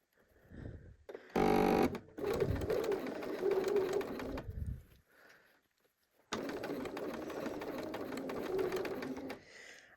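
A home sewing machine stitching quilt fabric for a Drunkard's Path block, running in two sustained bursts with a pause between, preceded by a short loud rattle, close and steady.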